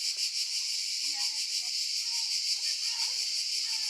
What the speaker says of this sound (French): Oh les cigales là, ça va bien maintenant.